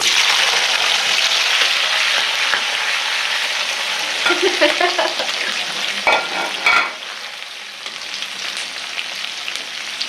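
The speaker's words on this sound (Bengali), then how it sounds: "এখানে আমি চিলি চিকেন রান্না করব এই যে পেঁয়াজ দিয়ে দেবো সব" Chopped onions sizzle steadily in hot oil for chili chicken, a loud, continuous frying hiss with a few stirring scrapes toward the middle before it eases slightly.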